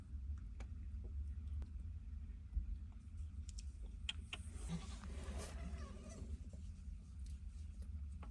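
Goats on a farm bleat faintly in the distance, a few short calls scattered over a low rumbling background, with no one talking.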